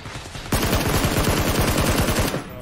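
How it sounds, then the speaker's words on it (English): Rapid automatic gunfire from a PUBG match on Xbox One X bursts in loud and close after a quiet half-second, a dense sustained stream of shots for nearly two seconds before cutting off. "They're shooting at somebody."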